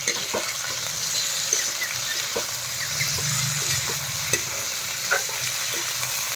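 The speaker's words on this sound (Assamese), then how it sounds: "এই গাহৰিটো মই ফ্ৰাই কৰি আছোঁ।" Steady sizzling of pork frying in a pan, with occasional stirring clicks and scrapes, close and continuous with no talking.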